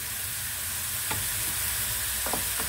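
Misua noodles with vegetables stirred in a hot pan, a steady close sizzle of frying with a few scraping stirs of a utensil, no talk.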